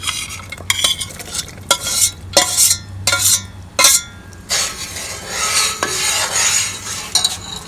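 A sweetened jaggery bundi laddu mixture is stirred with dry fruits in a pan, loud scraping strokes in an irregular rhythm, then a continuous sizzling stir with occasional clinks of the spoon against the metal, no voices.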